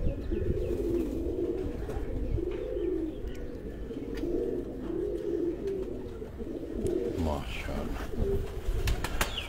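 Pigeons in a home loft in Sargodha coo in repeated low rolling phrases throughout, with soft wing flutters and a person talking quietly in the background.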